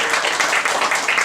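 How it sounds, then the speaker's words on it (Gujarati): Applause from an audience welcoming guests at a Lions family college function, a steady wash of many hands clapping close by for a short stretch. "આપણે એમને તાળીઓથી વધાવીએ"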